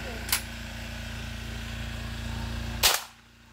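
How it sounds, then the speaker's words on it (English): Two sharp shotgun blasts fired outdoors in a forest, one early and one near the end, each a loud broadband crack over a steady low hum. "So we shot it, and let's shoot some more."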